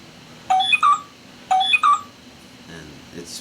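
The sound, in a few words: phone ringing with a text message notification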